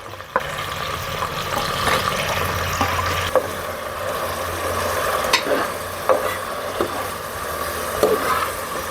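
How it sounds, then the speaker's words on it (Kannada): Tomatoes fry in hot oil with onion, a loud, close sizzle carrying irregular scraping and tapping as a utensil stirs the pan, with a brief louder hiss at the start and no voices. "ಟೊಮೊಟೊ ಫ್ರೈ ಆಗ್ತೈತೆ"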